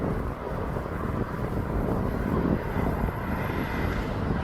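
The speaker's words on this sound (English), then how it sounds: "And this Ryanair is off down to Alicante." Ryanair airliner taking off from East Midlands Airport, bound for Alicante: a steady, broad engine roar that holds loud and continuous throughout, with some wind buffeting on the microphone.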